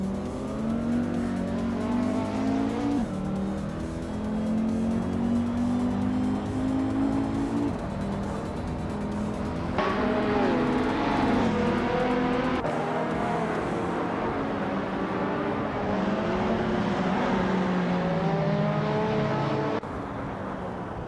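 A 1987 Ferrari F40 race car engine roars steadily through a race, its pitch climbing and dropping with gear changes and acceleration, loud and continuous with no talk over it.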